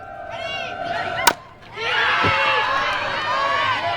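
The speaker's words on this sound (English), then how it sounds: "That's a really loud cheer for a foul ball." A loud crowd roars and cheers at a college softball game between Tennessee and Arkansas after a foul ball, following a sharp crack of the bat and a brief lull, with the cheering sustained and broad.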